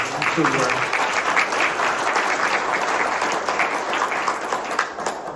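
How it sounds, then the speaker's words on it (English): A dense, steady round of applause from a breakfast-meeting audience, loud and continuous throughout, with murmured voices mixed in underneath. "Please, let's have a round of applause for that."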